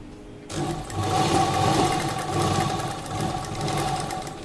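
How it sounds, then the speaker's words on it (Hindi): Sewing machine running steadily through rough stitching on kurta lining and canvas, a continuous near whir starting after a brief quiet moment and lasting to the end, with no talk. "ये रफ सिलाई है, ये सिलाई टेढ़ी मेढ़ी होगी तो भी चलेगी।"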